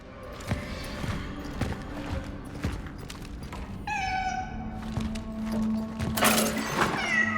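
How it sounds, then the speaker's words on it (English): A cat meows several times in the video game Cronos: The New Dawn, the calls rising midway and again near the end over a steady game backdrop with occasional thuds. "Is that a cat?"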